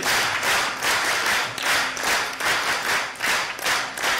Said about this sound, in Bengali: স্কাউট তালি বাজাই জোরে।